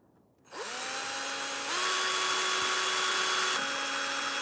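A power drill starts up with a sharp whine after a moment of quiet, then runs steady and close, stepping up in pitch partway through, alone with no voices.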